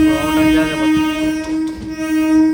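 A passenger train overtakes on a parallel track, heard from aboard another train as a loud sustained horn tone over rumbling wheels and rail noise, close and steady.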